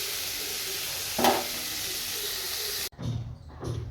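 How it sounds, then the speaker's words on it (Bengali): Mixed vegetables fry in a pan for upma with a continuous hissing sizzle, a brief louder stirring flare midway, then the sound cuts to quieter clattering and faint sizzle. "এখানে সব রকম সবজিগুলো ফ্রাই হচ্ছে"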